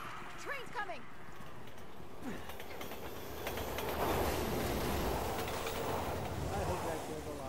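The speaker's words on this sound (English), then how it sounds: "Train's coming." A train rumbles in from the distance in the Resident Evil 6 zombie game, its low roar swelling and holding loud over the last few seconds, mixed with game noises and a talking voice.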